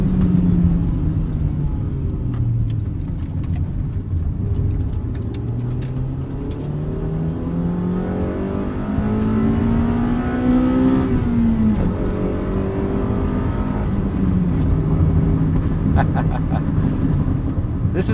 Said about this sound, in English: VTEC is way more pronounced in this.